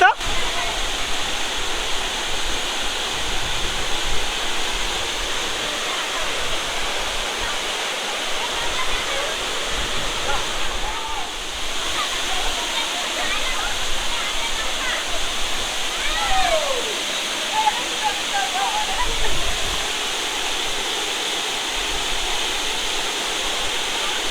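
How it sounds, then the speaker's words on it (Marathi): A waterfall at Bhagirath near Mumbai pours down steadily, its water collecting in a pool below. It makes a loud, close, unbroken roar and rush of falling water for the whole stretch. "हे बॅक साईडला बघू शकता वरून जे वॉटरफॉलचं पाणी येतं ना ते अशा प्रकारे इकडे जमा होते"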